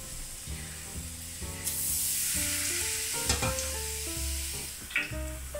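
A battered shiso leaf deep-fries in hot oil with a bright, rising hiss that swells and holds. Faint tonal sounds run underneath, and a few short clatters come near the end.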